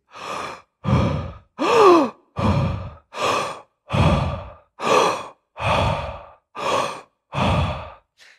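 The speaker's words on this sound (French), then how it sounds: "c'est comme la bouche reste grande ouverte à l'inspiration et à l'expiration comme un bâillement" Ten slow, deep open-mouth breaths in a breathing exercise, each inhale and exhale drawn out like a yawn with airy, sighing texture, evenly spaced and close, separated by brief silences, no talking.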